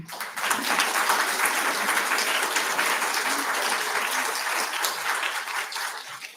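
Audience applause at a county commission meeting, a sustained wash of many hands clapping from a room full of people, steady and moderately loud before tapering slightly at the end.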